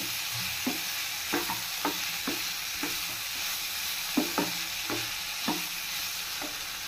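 Vegetables with chopped onion and three chopped green chilies fry in a pan, meant for crispy vegetable rolls. Regular spatula strokes scrape through a steady, bright sizzle, close up.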